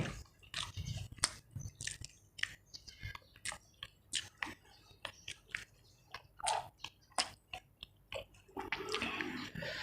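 Someone eats rice with fried tilapia and eggplant, making soft, close, rhythmic chewing and wet mouth sounds in repeated bursts, with faint whispery breaths and small clicks between bites.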